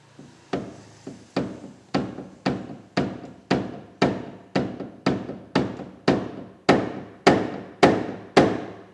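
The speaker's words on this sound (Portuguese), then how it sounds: "quero pegar o martelo de borracha agora" A rubber mallet taps a dented car panel during dent repair with no rear access, striking about seventeen firm, evenly spaced blows, each a sharp hollow knock with a short ringing decay.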